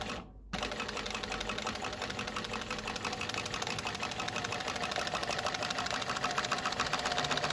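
A Kansai DFB-1412PQ 12-needle chain stitch machine starts up after a brief silence and runs slowly, giving a steady, even mechanical ticking and whir that stays at a moderate level throughout.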